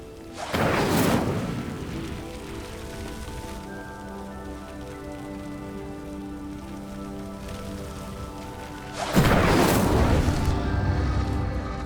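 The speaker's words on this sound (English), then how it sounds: "The flames make the pyre sink." A stone pyre sinks after being lit with fire in Hogwarts Legacy, giving two loud, rushing rumbles of grinding stone at the start and end over a steady, quieter ambient bed.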